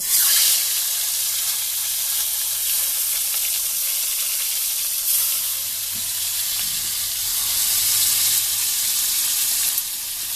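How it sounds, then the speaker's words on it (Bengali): Pieces of katla fish frying in a pan, a loud continuous hiss and crackle of hot oil that swells and eases slightly over about ten seconds. "আর এখন ভেজে নেব বাকি মাছটা আমি ভেজে নেব"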